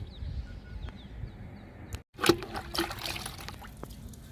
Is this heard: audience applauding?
no